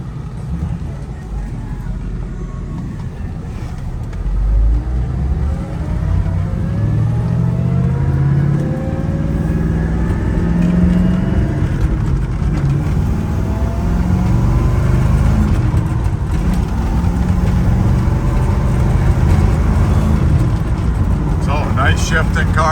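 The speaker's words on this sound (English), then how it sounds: "Nice shifting car, nice driving car." A 1966 Chevrolet El Camino engine rumbles steadily while driving, its low drone swelling as it accelerates and shifts, heard from inside the car.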